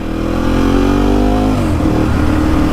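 Motorcycle riding through London traffic, a loud close engine drone holding steady and then dropping in pitch as the rider eases off, with no talking.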